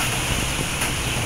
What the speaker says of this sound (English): Look at that winds.